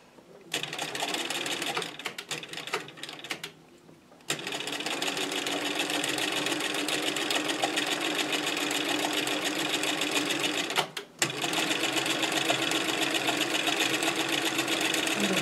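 A sewing machine stitches a ruffle onto a fabric table runner in long steady whirring runs. It pauses briefly near the start and again toward the end, close and prominent throughout.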